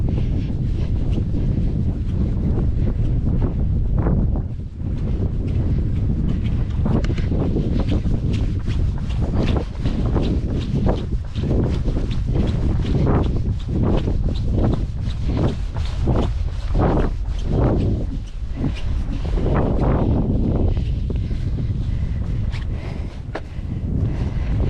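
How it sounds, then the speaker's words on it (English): Strong, gusting wind buffets the microphone on the Cumbrian England Coast Path near Silloth and Maryport, a loud continuous rumble with footsteps from someone running beneath it. "That wind's getting up now."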